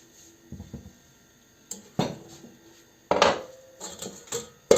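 Clattering knocks and scrapes of a metal pot being moved and set down, in a few separate bursts with quiet gaps between.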